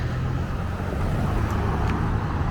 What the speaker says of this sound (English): It's a articulated Viva bus.